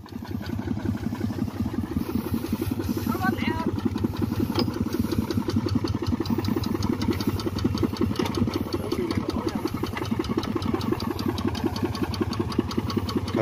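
Kubota ZT140 engine on a small excavator runs steadily up close, a continuous mid-pitched diesel chug with a fast even pulse and no talk over it.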